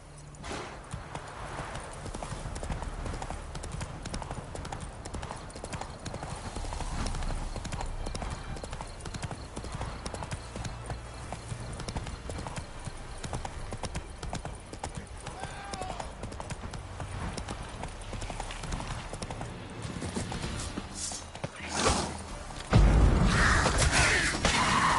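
A horse gallops in the video game Witcher 3: Wild Hunt, rapid rhythmic hoofbeats drumming steadily and close for the whole stretch, with faint ambient game sounds and a brief louder burst near the end.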